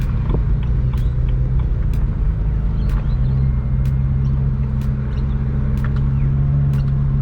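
Inside a turbocharged BMW E92 335i with the N54 engine, a steady low engine drone and rumble hold throughout, with a slight rise in pitch partway through and a few faint clicks.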